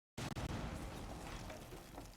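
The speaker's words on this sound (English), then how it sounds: "we're hearing explosions left and right." In a Rainbow Six Siege match, an explosion bursts in abruptly after a moment of silence with a couple of sharp pops, then rumbles on as a faint, sustained roar.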